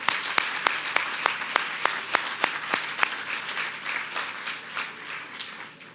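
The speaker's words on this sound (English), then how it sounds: "How about another round of applause for all of our honorees tonight?" An audience applauds honorees at an evening leadership awards celebration, starting with a few sharp, evenly spaced claps that swell into sustained applause and then gradually fade.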